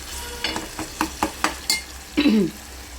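Masala frying and being stirred in a pan for a drumstick and chicken rassa curry, a run of close, crisp scraping strokes over a steady background hiss, ending in a louder, longer scrape.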